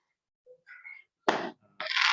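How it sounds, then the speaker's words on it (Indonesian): Firecrackers set off outdoors near a youth church service, heard as two loud, abrupt broadband bursts, each lasting about a quarter second, after a couple of fainter scattered noises. "di sini ada yang main petasan juga, mungkin agak mengganggu"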